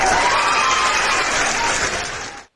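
Audience clapping and cheering at a talk, a thick wash of applause with crowd voices mixed in, loud and steady before cutting off abruptly.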